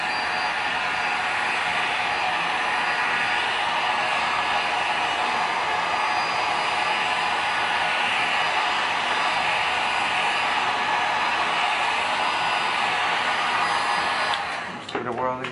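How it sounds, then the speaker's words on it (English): A hot air blower heats a permaseal headlight, a loud, steady hair-dryer-like roar close up that runs unbroken for about fourteen seconds, then cuts off. "Let me see if I can just heat it up, blast it for a second."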